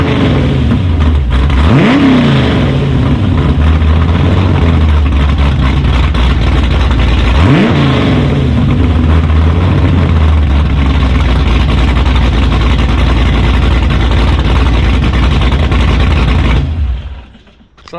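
A dedicated race car's engine rumbles loud and deep through its old street exhaust, rising in two sharp revs before settling back to a steady roar that cuts off at the end.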